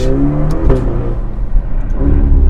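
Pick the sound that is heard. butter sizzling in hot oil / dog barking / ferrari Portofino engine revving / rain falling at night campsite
ferrari Portofino engine revving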